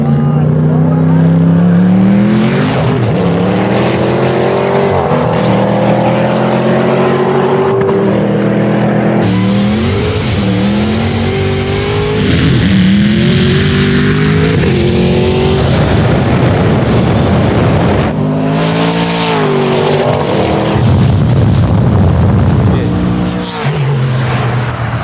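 Loud drag racing engines, an 800hp 2021 Audi RS6 Avant and a 950hp 1967 Camaro, roar and climb through gears, several passes of hard acceleration and shifting, continuous and close throughout.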